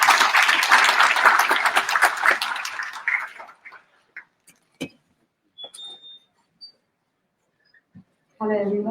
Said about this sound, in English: A huge round of applause for ma'am.